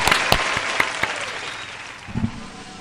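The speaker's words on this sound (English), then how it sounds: "A hand clap, and then we got to do a drum roll." Applause from a crowd fills the space, with sharp individual claps standing out above a steady wash of clapping hands.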